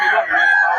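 A rooster crowing close and loud, one sustained strained call lasting under a second, in a busy area with many chickens.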